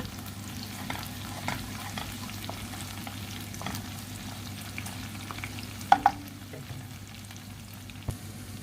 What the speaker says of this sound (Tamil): கொஞ்சம் பெருஞ்சீரகம் அப்படியே தாளிச்சு